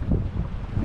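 Wind gusting outdoors at a scenic fishing and cooking spot, a brief low steady rush of air buffeting the microphone with no speech.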